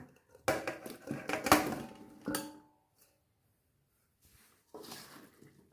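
Cauliflower is tipped into a pan and stirred, with a burst of clattering and scraping of the pan and utensil, then a quiet gap and a brief final scrape.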